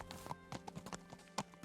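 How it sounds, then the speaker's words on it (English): Horse hooves clip-clopping at a walk in the video game Kingdom Come: Deliverance, a light, uneven run of close hoof knocks with no talk over them. "I'm just gonna walk my horse like nothing's wrong here"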